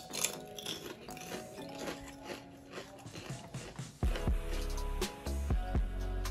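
Crunchy smoked paprika snack being bitten and chewed, with repeated crisp crunches growing louder and closer in the second half over a faint background.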